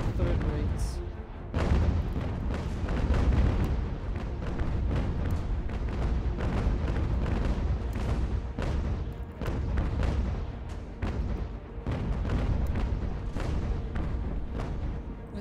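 Ships' cannons boom in a naval battle in Ultimate General American Revolution, a dense run of heavy, close shots and rolling blasts repeating rapidly across the whole stretch, loud and nearly continuous with no voices.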